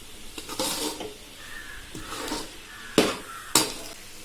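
Coconut and jaggery being stirred together in a pan, a series of scraping sweeps of a spoon against metal with a few sharp clinks, over a quiet sizzle; no voices.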